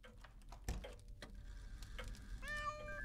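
A cat gives a short meow late on in the video game Monaco, heard faintly over soft clicking and ticking game sounds.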